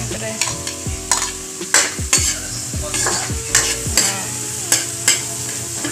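Garlic sautéing in a pan for ginisang monggo, a loud close sizzle broken by repeated scraping strokes of a spatula stirring in a steady rhythm, with no talk.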